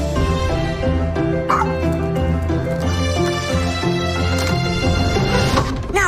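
A dog barks, yips and whimpers in short bursts, heard close and loud over a steady bed of music, with no talking.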